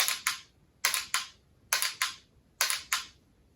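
A BlackBeard dry fire trainer system produces four pairs of sharp, crisp mechanical clicks, each pair a quick double snap, evenly spaced with short quiet gaps between them.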